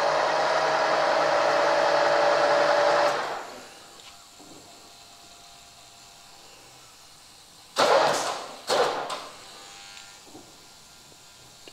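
On a machine used to work on a BMW M3 engine piston, a cutter traverses with a steady whirring buzz for about three seconds, then quiet, then two short loud mechanical bursts.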